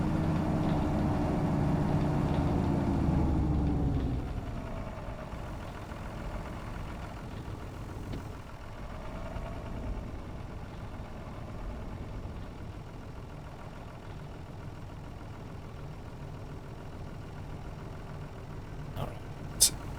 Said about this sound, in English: even downhill the tractor doesn't really cool much